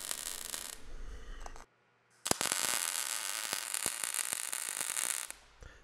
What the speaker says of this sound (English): I'm just welding the head to the back side of the spare tire mounting plate